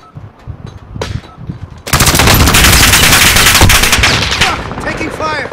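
Call of Duty Warzone match on Rebirth Island: a few scattered shots, then a loud, sustained burst of rapid automatic gunfire lasting several seconds and tailing into lighter shots, with faint in-game voice chatter underneath.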